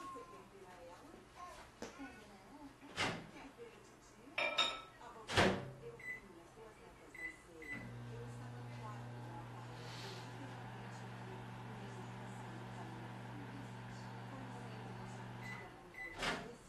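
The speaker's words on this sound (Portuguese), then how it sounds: "Deixa eu só botar esse café no micro-ondas um segundo." Coffee heating in a microwave oven: the door clunks shut and buttons click, then a steady loud hum runs for about eight seconds before stopping, with a nearby speaker's voice heard faintly.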